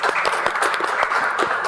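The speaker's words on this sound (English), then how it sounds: "So please, give him a round of applause," Audience at a futurists panel during a computing summit clapping for a web pioneer, a lively short burst of close, crisp hand claps with distinct individual slaps in the mix.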